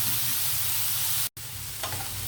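Chopped carrots and tomatoes fry in a pan for Indian-style macaroni, a steady close hiss of sizzling broken only by a brief gap and a faint stir near the end.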